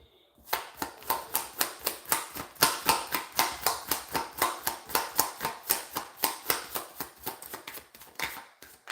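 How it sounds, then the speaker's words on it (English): A deck of playing cards is shuffled by hand in quick, crisp riffles, a rapid series of sharp snapping flicks at a steady rhythm, close and loud, with no talk. "if I shuffle these cards 3 times and no card comes out, I take what's at the bottom"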